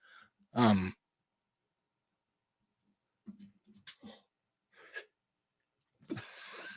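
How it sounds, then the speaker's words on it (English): One sharp sneeze near the start, followed by quiet and a few soft breathy vocal sounds and murmurs. "I had a sneeze come there"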